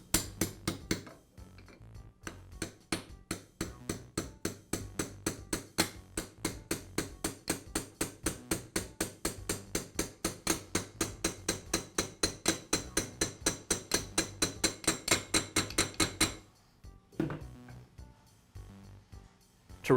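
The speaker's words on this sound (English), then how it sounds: "now I can tap the pin the rest of the way into place" A hammer taps a roll pin into the handle of a Makita chop saw, striking in a long, fast, even run of sharp metallic blows that stop abruptly near the end, leaving a few scattered knocks.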